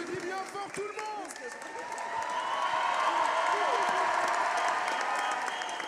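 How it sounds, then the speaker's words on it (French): A crowd at the opening ceremony of Le Grand Kiff 2025 breaks into applause and cheering, starting under talk and swelling into broad sustained clapping. "On applaudit bien fort tout le monde."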